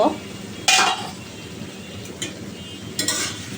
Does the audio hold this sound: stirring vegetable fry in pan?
yes